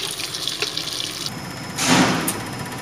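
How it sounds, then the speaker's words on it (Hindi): Cold tap water runs steadily into a sink over cooked rice being rinsed, with a brief louder gush of splashing water partway through, close and without speech. "अब हम इसे तो पानी से ऐसे निकाल लेंगे ठंडे पानी से, ताकि चावल खिला खिला रहे"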